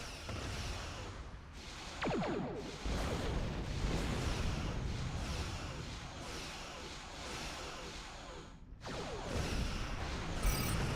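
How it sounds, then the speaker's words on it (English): Starships explode in a Star Trek space combat video game, a dense, continuous rumble of blasts and whooshes with a few brief breaks, heard at moderate level without speech. "Ship explosions cause damage."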